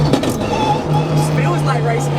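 Race car lapping a track, a continuous loud engine drone heard from inside the car with a steady low hum.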